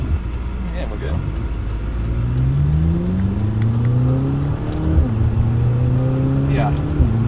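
A McLaren 570GT accelerates hard from inside the cabin, its engine note climbing steadily and then dropping at each quick gear shift before rising again, loud and close, with people talking over it.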